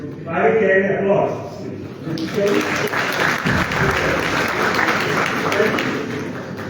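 After a voice speaks briefly, an audience at a meeting of West African central bank governors in Liberia breaks into sustained, loud applause that fills the room.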